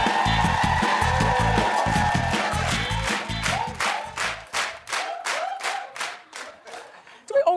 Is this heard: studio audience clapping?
yes